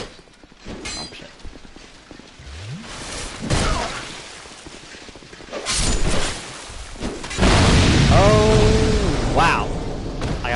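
Loud game explosion from Dark Souls 2 in an abandoned prison, a heavy blast bursting mid-clip with crashing debris and clattering combat noises, followed by a second swell of rumbling impact, with someone talking over parts of it.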